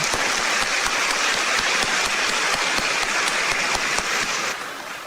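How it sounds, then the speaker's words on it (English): Sustained applause from a large audience at an American Chamber of Commerce dinner banquet in Taiwan, dense, steady clapping with sharp individual claps, fading slightly at the end. "Let's give him a round of applause."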